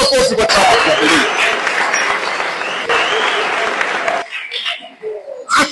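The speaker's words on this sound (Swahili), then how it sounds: "Hebu chapa makofi kwa Chama cha Mapinduzi." A crowd at a Tanzanian political rally claps for the Chama cha Mapinduzi party, sustained loud applause for about four seconds that cuts off abruptly, followed by scattered voices and bird calls.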